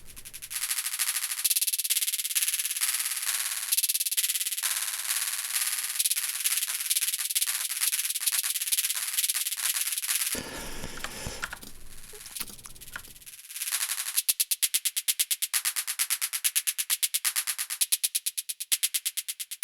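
A drum hit retriggered by the SPECDRUM in a fast, even machine-gun roll at one unchanging pitch, briefly interrupted by a noisy wash before the rapid repeats resume.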